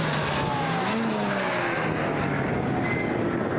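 Race cars in a Swift Cup race at BalatonPark on the final lap, engines droning loudly and continuously with shifting pitch as several cars pass close, a steady wall of motor noise.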